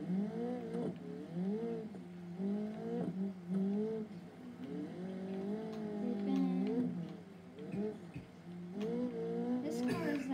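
A rally car in the BeamNG driving game runs along a track, its engine note rising and falling in repeated revving swells. A voice talks over it throughout.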